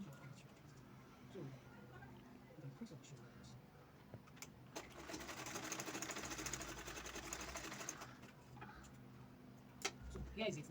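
A sewing machine stitches the shoulder seams of a halter neck top, a quiet rapid mechanical whirring that starts and stops in short bursts among light ticks and handling noises.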